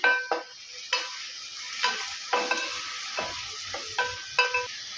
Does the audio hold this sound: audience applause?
no